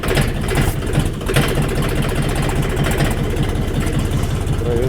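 The engine of a DTZ 5244HPX mini tractor runs loud and steady at close range, a continuous throbbing drone that holds through the whole stretch.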